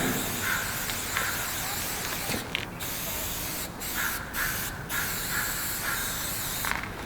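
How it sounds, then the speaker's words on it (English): A New York Fat Cap on a graffiti spray paint can hisses in long, steady, close blasts, with short pauses and faint clicks between passes and no talking. "It's just like a beautiful, perfect spray."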